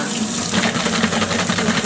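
Water runs steadily through the cooling system of a Mazda MX5 during a flush, a continuous close rushing and splashing, like a running hose or tap, with no talk.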